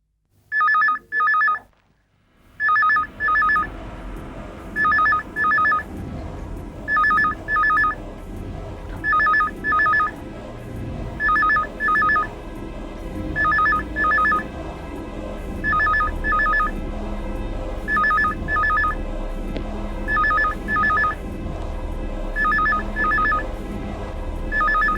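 A telephone rings for a call from London, repeated paired bursts of bright ringing in a steady rhythm, about a dozen rings in all, loud and close over a low background hum.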